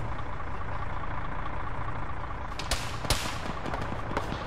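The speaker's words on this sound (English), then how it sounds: "We got contacts shooting at us from the west." In a military video game, enemy gunfire cracks out as a few sharp, distant shots over a constant low engine rumble from vehicles.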